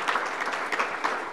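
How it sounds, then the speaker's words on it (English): Audience applause at a simulation technology conference, a steady wash of many hands clapping throughout, fairly dense and even with no voices over it. "I'd like to offer up a round of applause to Sim Alliance, our platinum sponsor this year"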